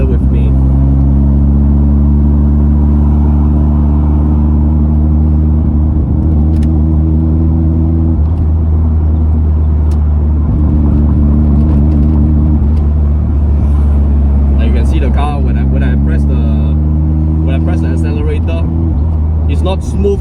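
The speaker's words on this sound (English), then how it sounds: "It's very cranky, very hard to drive the car now." A car drives jerkily and roughly, its loud low engine drone surging and dropping in uneven stop-start pulses, heard from inside the cabin with occasional faint clatter.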